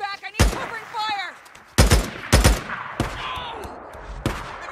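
Gunfire erupts in the Days Gone video game, sharp loud bursts of shots in several separate volleys, with shouted voices between and under the firing.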